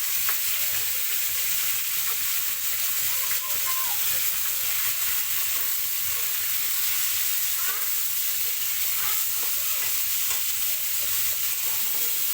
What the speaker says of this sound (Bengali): পেঁয়াজ দিয়ে দেবো এখন। এখন মাংস রান্না হবে